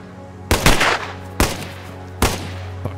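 Gunfire in the survival video game DayZ, three loud, sharp gunshots about a second apart, each with a brief rattling tail, close and without talk.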